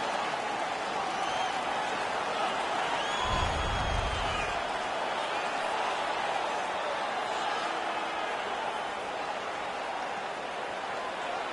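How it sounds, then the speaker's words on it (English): An arena crowd in the hockey game NHL 16, during an Anaheim Ducks versus Boston Bruins match, sends up a steady, distant roar of cheering and applause that holds at an even level throughout. "The crowd is now back in it."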